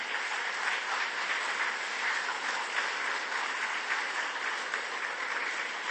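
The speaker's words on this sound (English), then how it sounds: "So please do clap for the winners." Sustained applause from an audience at a foundation day awards ceremony, dense steady clapping for the winners with no break.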